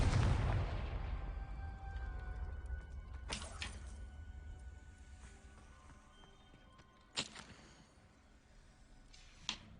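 A Confringo blasting spell from the Hogwarts Legacy video game on PC, bursting as a loud explosive blast at the start that decays into a rumbling tail, followed by a few sharper distant bangs and no talking.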